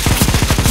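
Rapid automatic gunfire in CS:GO Zombie Escape, aimed at a boss: a dense, steady string of loud shots, about a dozen bursts in under a second, with no talking.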